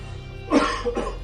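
A single close, rough cough that turns into a short throat clearing, heard against quiet background hum.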